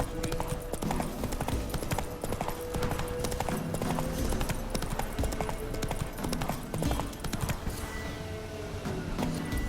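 Hooves of Geralt's horse Roach in The Witcher 3: Wild Hunt on PS5, clip-clopping in a brisk, steady rhythm on hard ground, loud and close throughout.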